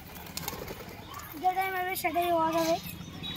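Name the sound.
pigeons cooing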